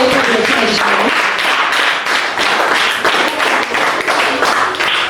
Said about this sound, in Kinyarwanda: wowe umuha amashyi menshi